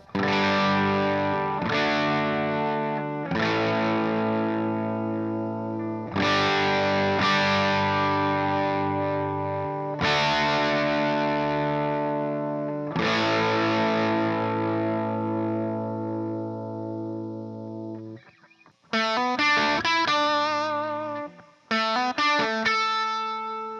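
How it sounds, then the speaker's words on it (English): Electric guitar through a Victory Copper Deluxe tube amp and Two Notes Torpedo Live cab emulator: sustained, slightly overdriven chords strummed and left ringing, then a quicker picked phrase near the end. "the amp I'm using is a Victory Copper Deluxe played through a 2 Notes Torpedo Live cab emulator"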